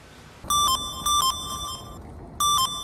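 A bright electronic phone ringtone chimes in short repeated bursts of warbling tones, with brief pauses between the rings.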